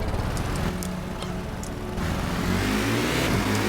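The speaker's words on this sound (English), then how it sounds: "So this thing definitely revs up a bit." A manual car in a driving video game revs its engine, a steady mid-pitched drone that climbs and swells toward the end, loud and continuous with no talk.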